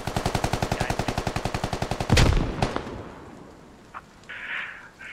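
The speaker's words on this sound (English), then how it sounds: "Grenade being thrown." A grenade goes off in a squad-based military shooter: a steady string of rapid automatic gunfire, then one loud, close boom that slowly decays, followed by scattered distant shots and faint noises.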